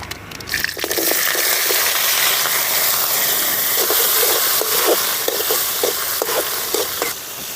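Mustard seeds and chopped small shallots frying in oil for a tomato curry, a loud, steady sizzling hiss broken by sharp popping crackles, close up and continuous after a sudden start.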